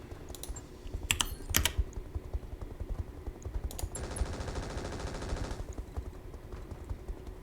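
Machine guns firing in Battletech (modded Roguetech) combat: scattered sharp bursts early on, then a sustained rapid rattle of fire lasting about two seconds over a steady game background.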